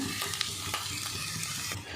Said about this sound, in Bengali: মাঝে মাঝে আলুটা নেড়ে দেবো